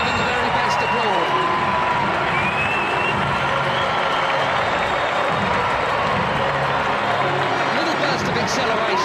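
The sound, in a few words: stadium crowd applauding at a football match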